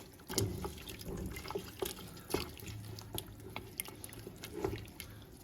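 Squash being stirred in a cooking pot with bay leaves and fresh thyme, wet squelching and dripping with irregular utensil knocks against the pot, close and fairly quiet, no talking.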